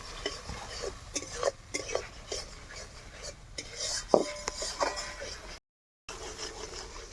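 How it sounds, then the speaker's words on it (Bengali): Spice paste with melon seeds being stirred and fried over low heat in an iron wok, a spatula scraping and rubbing in irregular strokes with soft sizzling underneath, one sharper metallic clink midway and a brief gap of silence. "এই মশলাটাকে হালকা আঁচে ভাজতে হবে, না হলে কড়াইয়ের মধ্যে লেগে যাবে"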